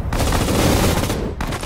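Rapid bursts of small-arms and machine-gun fire from a World War II battle in the strategy game Sudden Strike 4, set in the Pacific War at Myitkyina, crackling densely and continuously before a brief lull and renewed shots.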